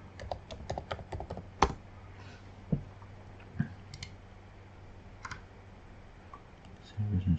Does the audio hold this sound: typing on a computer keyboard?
yes